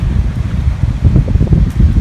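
Strong wind on Immuki Island, Luna, La Union, buffets the microphone in a steady low roar with gusty surges, loud and close, with no voices.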